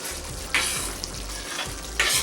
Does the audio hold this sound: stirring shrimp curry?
yes